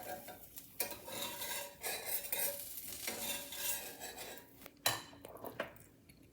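Black chana dosa cooks in a pan with a spatula scraping and tapping against metal, soft sizzling beneath irregular clatters and strokes, close and fairly loud.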